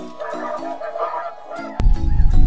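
Snow geese honk repeatedly during a waterfowl hunt, a chorus of nasal calls from a flock, followed by a sudden loud burst of noise and rougher, rumbling sound as the honking continues.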